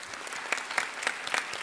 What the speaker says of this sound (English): round of applause, I think, for the organisers